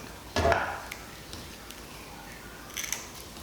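Scissors snip through cable during a Miata LED headlight wiring job, one firm close cut followed by a few faint clicks and a brief second snip.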